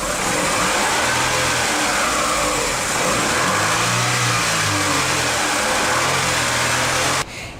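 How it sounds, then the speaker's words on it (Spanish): Car engine revved repeatedly during an alternator test, a steady running note rising and falling in several throttle swells, loud and close throughout before cutting off sharply near the end. "voy a acelerar el motor para ver qué sucede"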